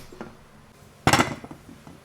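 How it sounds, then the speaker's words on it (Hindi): Paneer, tomato, onion and boiled white rice are mixed in a metal dish, with a few soft clinks followed by a loud burst of utensil scraping and clattering that then fades. "अब इन सबको मिक्स करते हैं"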